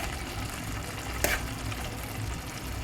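Boiled eggs gently turned in a pan with a little water and oil for egg curry, giving a steady low sizzle with one brief scrape partway through.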